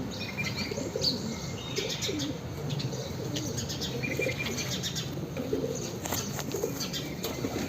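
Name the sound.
pigeon cooing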